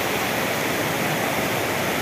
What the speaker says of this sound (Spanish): de la juntanza del río Cañabralejo con la quebrada Guarruz